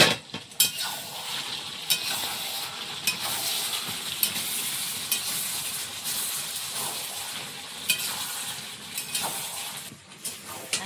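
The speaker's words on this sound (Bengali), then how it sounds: "মাংসটা একটু ভালো করে কষিয়ে নিতে হবে" Duck meat being stir-fried in a pan in a home kitchen, a steady sizzle throughout with frequent scrapes and clinks of a spatula against the pan, close and fairly quiet.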